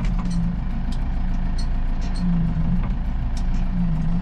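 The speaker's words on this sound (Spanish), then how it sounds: "Solo miremos cómo le entra a la chamba de manejar tractor" A tractor driven on a farm in the Netherlands, its engine giving a steady low diesel drone with faint clicks and rattles over it; no voices in the foreground.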